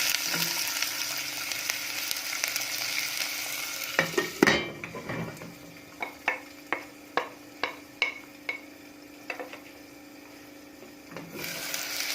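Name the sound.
onions frying in oil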